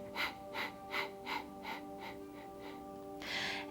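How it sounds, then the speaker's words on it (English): Quick, forceful nasal exhalations during yoga breathing in lotus pose come as about eight rhythmic puffs, close and fairly soft, followed by a longer, fuller breath. "you're taking deep breath in and short exhalations out"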